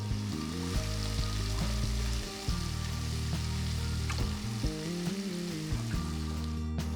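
Finely chopped onions sauté in hot oil with spluttering mustard seeds and roasted red chilies, a steady sizzle running under loud background music for the whole stretch.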